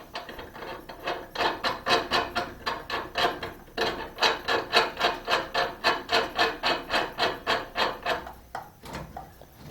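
Nut and washer being hand-tightened onto a bolt of a rotisserie jig for a classic Mini restoration, giving a steady run of rhythmic metallic rasping turns, close and fairly loud, with no talking.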